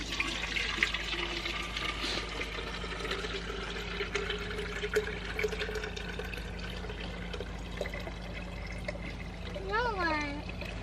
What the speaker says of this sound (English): I've just been pouring some fish fertilizer in there by hand and then filling it up with water.